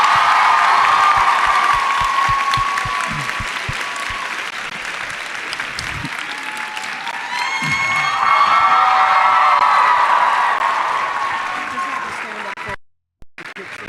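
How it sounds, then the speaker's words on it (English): A university audience at a talk with Daveed Diggs bursts into sustained applause, loud and close, with cheers, whoops and shouts rising over the clapping before it breaks off near the end. "Let's give a round of applause."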